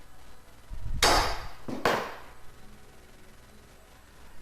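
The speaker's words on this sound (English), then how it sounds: "We could use the hand squeezer to dimple, but it's quicker using the C-frame tool." A C-frame dimpling tool is struck on aircraft skin for a Vans RV rudder, giving two sharp, close metallic blows about a second apart against a quiet background.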